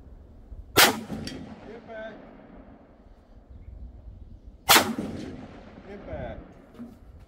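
Two loud, sharp gunshots from an AR rifle fitted with a CV Life budget brass catcher, spaced several seconds apart, each followed by a brief ringing decay and faint clinks, outdoors.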